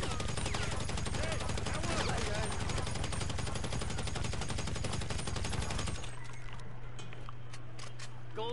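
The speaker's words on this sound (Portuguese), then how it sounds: "Descarreguei a arma inteira" Rapid, dense automatic gunfire from a weapon in GTA V Online, loud and continuous for about six seconds before cutting off abruptly, leaving a low steady hum.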